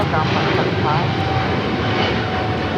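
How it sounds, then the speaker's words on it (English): A Philippine Airlines Boeing 777-300ER takes off, a loud, steady engine roar filling the air while someone talks over it and a radio voice is briefly heard. "This is Philippine Airlines Flight 113 taking off to Manila on a 777-300ER"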